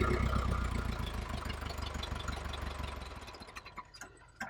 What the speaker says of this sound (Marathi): रामभाऊ, अहो ट्रॅक्टरवाल्याला काय बोलताय?